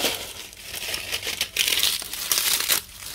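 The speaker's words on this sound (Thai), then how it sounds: "ฉีกไปเลย" A plastic bag of potting soil being torn open up close, a continuous crinkling, ripping rustle lasting a few seconds with no talk.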